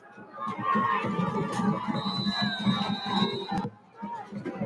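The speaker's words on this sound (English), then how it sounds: "The crowd is chanting, hit somebody." A youth football crowd at a national championship game chants and cheers in the stands, a sustained rhythmic roar of many voices that dips briefly near the end.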